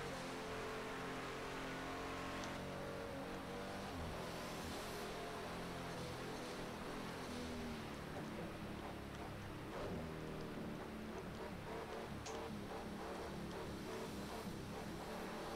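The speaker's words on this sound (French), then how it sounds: "c'est vrai que j'ai choisi la pluie. Une forte pluie." A car races through heavy rain in Project Cars 2, its engine droning and shifting pitch under a constant wash of rain and road spray, loud and unbroken throughout.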